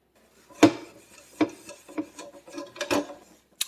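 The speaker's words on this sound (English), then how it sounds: "I'm gonna scrub some more and see if that comes off." A sponge scrubs a 12-inch tri-ply stainless steel frying pan, giving a series of close, uneven rubbing strokes with scraping pulses and no talk.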